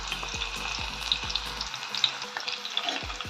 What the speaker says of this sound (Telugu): ఇలా చక్కగా ఆనియన్స్ని ఆయిల్లో ఫ్రై చేసుకోవాలి.